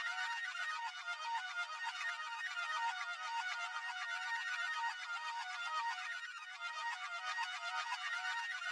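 A bright synth phrase from the Vital multi-kit, called heaven, plays steadily and alone for several seconds: a shimmering, high-pitched texture with no low end and an even, sustained level.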